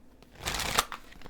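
A quick riffle of playing cards being shuffled, a single crisp burst lasting about a second.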